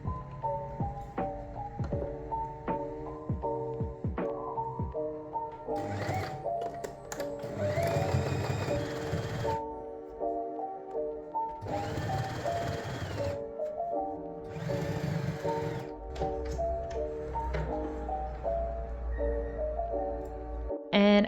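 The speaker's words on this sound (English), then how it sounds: "And then I go ahead and sew it down with a straight stitch." A sewing machine runs a straight stitch along a garment hem in bursts of rapid mechanical whirring and clatter, pausing between runs, with background music underneath.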